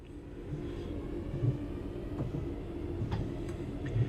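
A low, steady rumble of a train pulling away in the Simtrack Centro 323 video game, with engine drone, a faint knock or two riding on top, no voices.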